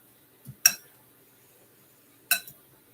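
A spoon clinks against a bowl while oatmeal is mixed into black beans for burgers, a few light metallic taps in two short clusters separated by quiet.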